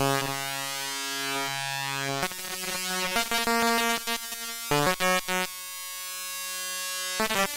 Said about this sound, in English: So with the modal in rings, we're getting this really distorted sound